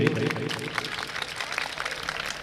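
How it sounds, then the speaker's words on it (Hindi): A mushaira audience claps faintly and steadily during a flower-garlanding honour at a Republic Day poetry gathering, the scattered applause running under distant speaking voices. "तालियां बजाइए, गुलपोशी हो रही है भाई।"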